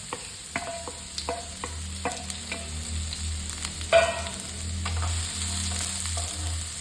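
Carrots and beans frying in hot sunflower oil: steady close sizzling with a series of light clinks and scrapes of a spoon stirring the pan, one louder scrape midway, no talking.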